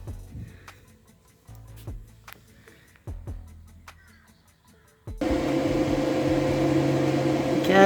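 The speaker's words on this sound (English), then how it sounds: "now I'll fit this bit of 6/4 inch steel plate back in here and fully weld it in" Arc welding on 1/4 inch (6mm) steel plate tacked into a torn box grader: after several sparse clicks and short hums, a steady loud crackling buzz starts and holds unbroken to the end.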